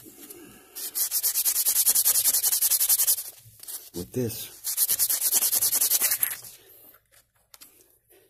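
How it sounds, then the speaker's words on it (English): Rapid back-and-forth strokes of a 180 grit sanding pad on a bone banjo nut in two long bursts, close and steady, separated by a short pause where a voice speaks briefly. "this is 180 grit sanding pad"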